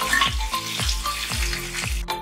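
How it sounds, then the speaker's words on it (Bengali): Koi fish frying in hot oil, a loud close sizzle with a few regular scraping strokes of a spatula in a short burst. "মাছগুলো দু পিট 1 মিনিট করে ভাজা হয়ে গেছে"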